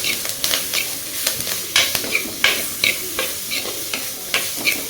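Onion, curry leaves and pirandai sautéed in a pan for village-style chutney, with sharp irregular stirring scrapes over a steady soft sizzle, close and moderately loud, no talking.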